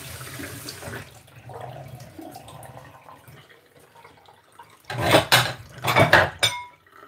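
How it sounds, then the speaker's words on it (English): Water runs over food in a kitchen strainer as it is rinsed in a sink, a soft splashing flow followed by louder bursts of gushing water and clanking metal near the end. "rinse them with water."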